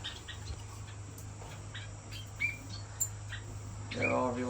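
Owl finches chirp in their cage, scattered short high tweets and calls over a steady low hum, with a busier burst of calls near the end; a voice talks faintly underneath.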